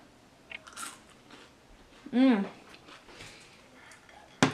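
A single crisp crunch of biting into a homemade air-fried French fry, close to the mic, with a little soft handling noise around it.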